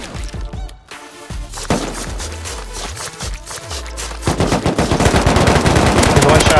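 Gunfire in the video game Rust during a raid, with rapid bursts of shots and impacts that build to sustained, loud automatic fire toward the end.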